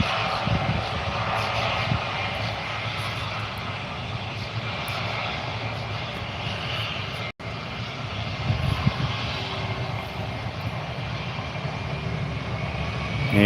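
A fixed-wing aircraft powering up for takeoff at Gold Coast Airport, its engine a loud, steady, broadband roar that holds continuously throughout from a moderate distance.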